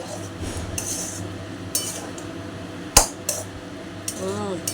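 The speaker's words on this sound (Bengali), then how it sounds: "আমি একটু নেড়ে দিই" Food being stirred in a pot with a metal spoon, scattered scrapes and clinks, one sharp knock against the rim midway, close by, with faint background voices.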